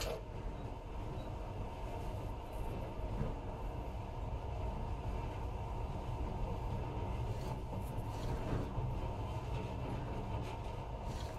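A monorail train runs in the video game Metro Last Light Redux, giving a continuous, steady rolling rumble with a faint metallic edge that holds at even loudness throughout, with no talking.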